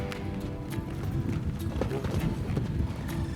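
A young, untouched horse is brought into a training pen, and its hooves clip-clop steadily on the ground close by while someone talks over them.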